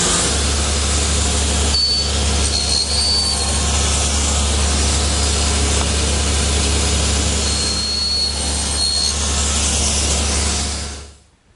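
A table saw cuts tenon shoulders on door rails for a Shaker wash stand, giving a loud, continuous roaring whine that holds steady for about eleven seconds before cutting off at the end.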